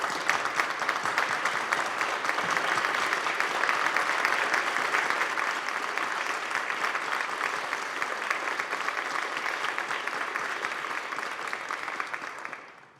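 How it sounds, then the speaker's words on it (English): Sustained applause fills the New York State Senate chamber as a guest is honoured, a broad even wash of many hands clapping that holds steady for over ten seconds before fading out at the end. "We applaud you."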